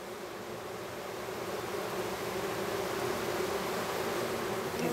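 A dense, steady buzzing of many bees in a hive with a drone-laying queen fills the space, close and continuous, with no voices.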